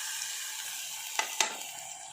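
Turmeric goes into a hot pan of drumstick leaf curry, giving a soft steady sizzle with two sharp metallic clicks of a spoon against the pan near the middle, quiet and close.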